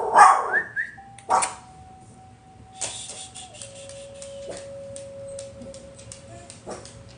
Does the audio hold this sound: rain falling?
no